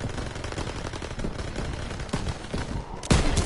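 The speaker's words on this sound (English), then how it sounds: "MGs, open fire." Automatic machine gun fire in a tank combat video game, a dense continuous rattle of rapid shots with a sharper, louder burst near the end.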